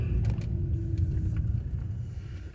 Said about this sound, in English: Let this car get by.